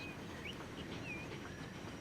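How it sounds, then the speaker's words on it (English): Leeds to Huddersfield passenger train in Transport Fever, a steady rumbling ride with faint high wheel squeals drifting over the continuous rolling noise. "So we're here riding the Huddersfield train."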